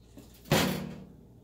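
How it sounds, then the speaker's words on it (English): A single firm thud as the door of a Ronco rotisserie oven is shut, close and fairly loud, decaying quickly into quiet. "Closes the door."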